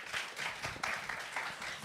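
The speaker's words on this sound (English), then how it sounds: "A round of applause for them." Applause from a conference audience at the close of a panel session at an e-mobility expo, a steady even patter of clapping held at moderate level throughout with no break.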